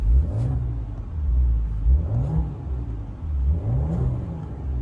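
A 2024 Maserati Levante Modena engine revs in Sport mode with its exhaust valves open, three rising-and-falling growling blips of low rumble spaced roughly two seconds apart, heard close and with no talking.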